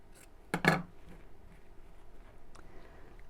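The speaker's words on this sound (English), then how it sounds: "I'm going to snip off the corners, so not through the stitches, but just snip off the excess fabric" Scissors snip off the excess fabric at the corners of a sewn lining, giving one close, sharp double cut followed by quiet handling and a faint later click.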